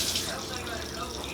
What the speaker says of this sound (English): I'm going to pour the last of the grease out